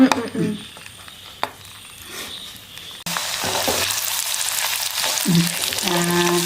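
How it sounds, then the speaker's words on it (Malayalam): A garlic mixture hitting hot oil for a lemon pickle, a quiet start with a few clinks, then a sudden loud, steady sizzle and crackle that continues to the end, with some speech over it. "വെളുത്തുള്ളി മിക്സ് ചെയ്തത് ഇതിലേക്ക് വഴറ്റാനായിട്ട് ചേർക്കുവാണ്"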